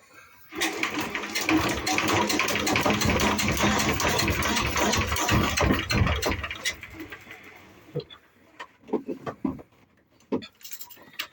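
A Yanmar YSE8 marine diesel engine, still fairly cold, being hand cranked and running with a steady, close mechanical chugging for several seconds before cutting off, followed by sparse knocks and a voice speaking.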